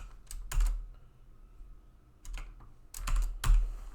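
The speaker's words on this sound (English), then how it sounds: "instead you type your equation" Keystrokes on a computer keyboard while an equation is entered, close clusters of clicks separated by brief pauses, no talking.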